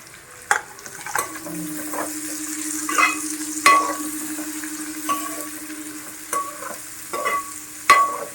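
Onions and green chillies frying in a pan where dried prawns were just fried, with scraping stirs and bursts of sizzling over a steady hiss; no talking.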